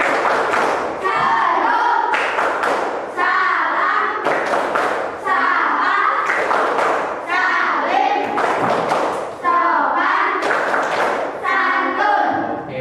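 Schoolchildren in a classroom play the rhythmic chanting and clapping icebreaker Tepuk 6 S, loud group voices chanting in bursts broken by sharp unison claps and thumps, repeating in a regular pattern.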